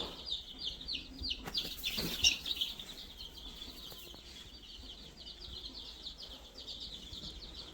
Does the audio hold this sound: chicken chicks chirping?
yes